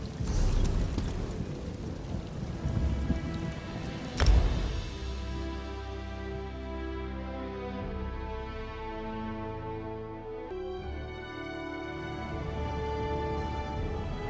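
A steady hiss of rain in the Elder Scrolls Online video game, with a sharp crack of thunder partway through, while ambient game music carries on underneath.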